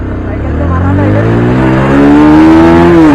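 A Yamaha R15 motorcycle revved hard for a wheelie during a bike race: a loud, close engine note climbing steadily in pitch over about three seconds.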